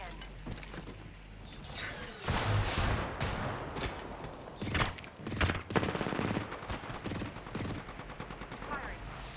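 Automatic gunfire in a battle royale game crackles in repeated bursts, loud and close, with sharp shots scattered across the fight and a few quieter pauses between volleys.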